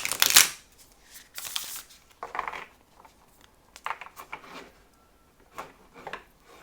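Oracle cards shuffled from a deck by hand, a series of crisp riffling and slapping bursts with quieter rubbing between, close and without speech.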